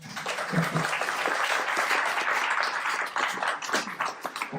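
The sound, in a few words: audience applause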